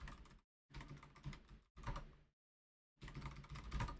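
Keys clatter on a computer keyboard as a password is typed, coming in quick bursts of clicks separated by short silent pauses, close and quiet.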